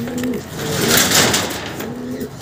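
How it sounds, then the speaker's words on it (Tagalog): A racing pigeon coos in low, throaty pulses close to the mic, with a soft broadband rustle swelling through the middle, as if from wings or handling. "Tapos itong pasaway nating ibon na to."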